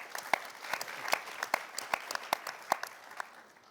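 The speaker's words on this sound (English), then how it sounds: "Round of applause." Audience applause at a summit panel session, a steady round of clapping from a seated crowd lasting several seconds, fairly close and even, with no talk over it.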